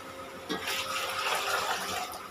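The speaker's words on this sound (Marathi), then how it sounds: "तर हे सर्व पाणी आपण त्याच्यात घालून घेऊया" Water is poured into a cooking pot for a spicy Maharashtrian amti, a faint steady splashing pour that starts after a short pause and runs on evenly.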